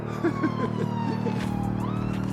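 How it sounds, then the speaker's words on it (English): A police siren wails in the distance with a sliding pitch, over steady road and engine rumble. "Got a siren and a helicopter, I think."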